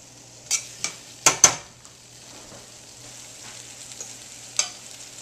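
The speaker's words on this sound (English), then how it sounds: "I'm going to saute some mushrooms in there, just like that." Mushrooms sautéing in butter and pork chop drippings in a pan, a quiet steady sizzle broken by several sharp clinks and scrapes of a utensil, with no talking.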